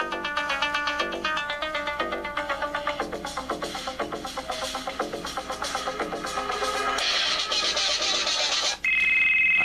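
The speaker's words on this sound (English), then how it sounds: "I like playing Knight Rider 2008." Knight Rider 2008 ringtone playing on a Huawei Ascend Q M660 phone, a loud, fast run of bright synth tones with a driving pulse that thickens toward the end, then cuts to a steady high beep.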